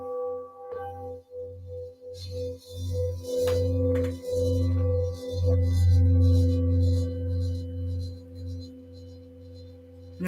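Healing singing bowls being struck, producing several sustained, ringing tones that overlap and swell, with repeated strikes and faint background noise across about ten seconds.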